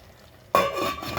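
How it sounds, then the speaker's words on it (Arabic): Egyptian rice stirred briefly in a pot: quiet at first, then a sudden clink of the lid or spoon and a short, fairly loud scraping stir that fades slightly. "نديله تقليبة، تقليبة بسيطة خالص."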